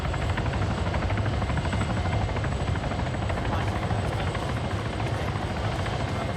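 A helicopter lands nearby in the tundra, its steady, loud rotor and engine roar filling the air continuously with a fast chopping pulse and no break.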